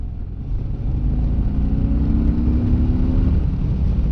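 A 2024 Harley-Davidson Fat Boy engine on the road, a deep, steady low rumble that builds as the bike accelerates, heard up close with wind and no speech.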